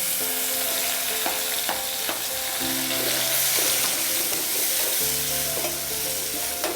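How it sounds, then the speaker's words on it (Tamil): Onions sautéing in a pan with ginger and garlic, a steady bright sizzle and frying hiss with intermittent stirring clatter, close and continuous, no talking. "வெங்காயம் போட்டு வதக்கிக்கணும்"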